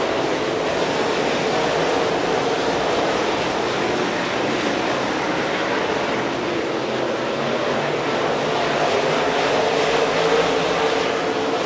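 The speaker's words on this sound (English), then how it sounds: "Michael Page now beginning to pull away from the 2nd place car at Jake Knowles." Stock cars racing at Rome Speedway in a Chevrolet Super Series feature, a continuous loud roar of engines that stays steady and dense throughout.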